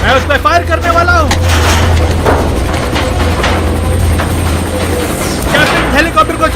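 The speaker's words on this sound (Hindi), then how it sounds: "कैप्टन, हेलीकॉप्टर को चारों तरफ घुमाओ।" A helicopter in a dubbed action movie scene gives a constant low rotor drone that runs beneath loud, urgent dialogue throughout.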